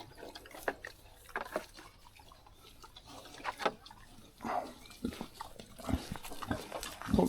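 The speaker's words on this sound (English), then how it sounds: "we've got 4 bigger pigs up here" Pigs grunt and snuffle in a straw-bedded pen, a run of short low grunts with rustling between them that grow louder and busier toward the end, with no talk over them.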